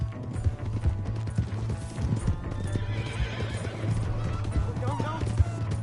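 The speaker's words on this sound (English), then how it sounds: "Hey, that's my horse!" Horse hooves clip-clopping at a gallop with a whinnying neigh in the video game Red Dead Redemption II, steady rhythmic hoofbeats close up alongside game sounds and people talking.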